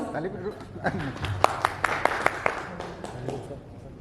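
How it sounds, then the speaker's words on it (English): A short round of audience applause for a film team on stage, sparse sharp claps rising in the middle under a speaking voice. "Please give a big round of applause."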